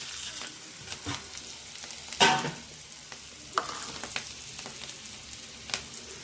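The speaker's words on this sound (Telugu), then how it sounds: "ఇప్పుడు నువ్వులు వేసుకున్నామండి" White sesame seeds sizzling in a hot pan, a soft steady frying crackle with occasional louder pops and stirring scrapes, close by and with no talking.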